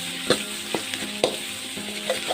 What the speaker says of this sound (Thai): ผมลงเลย ครับ ผม ก็คั่วรวน ให้ พอสุกนะ ครับ